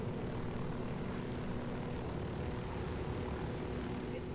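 A helicopter in the video game Ghost Recon Wildlands drones with a steady, dense engine and rotor roar, even and unbroken throughout, with no clear speech.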